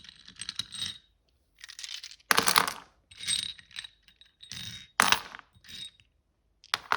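Astrology dice tossed by hand onto a table, giving sharp clicking, rattling clatters in several separate bursts with quiet gaps between throws.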